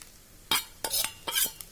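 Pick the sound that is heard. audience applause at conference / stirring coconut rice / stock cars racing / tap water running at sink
stirring coconut rice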